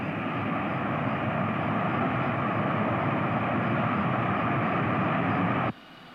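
Airplane taking off at Andrews air base in a 1973 movie, a steady loud roaring jet engine sound that holds constant for several seconds, then cuts off abruptly.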